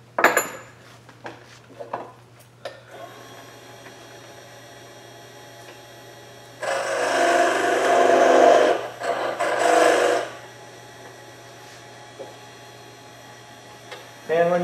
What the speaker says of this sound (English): And scrapers work better with the lathe going fast.